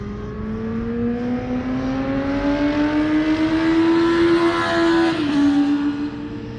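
A supermoto motorcycle accelerates on a track, its engine note climbing steadily through a gear, briefly dipping at a shift, then pulling on, loud and fairly close with no talk.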